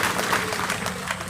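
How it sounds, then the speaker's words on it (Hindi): Dense, loud applause from a large crowd at an outdoor political rally, continuous clapping filling the short moment. "एक ताली लगाएं।"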